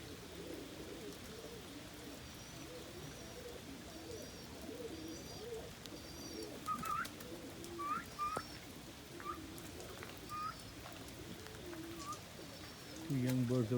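Young homing pigeons, including an almond homer and a blue bar homer, coo softly around a loft amid outdoor background noise, with a few brief higher chirps and a louder thump at the end.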